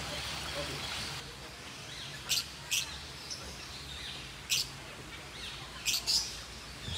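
Small birds such as lovebirds at a safari park in Mauritius give brief, sharp chirps in scattered bursts over a soft steady background hiss, fairly faint and alone without talk.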